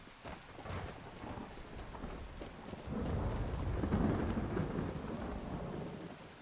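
Rain falls and thunder rolls outside Riverwood in Skyrim Special Edition, a steady patter with a deep rumble building partway through and lingering, moderately loud, with no voices.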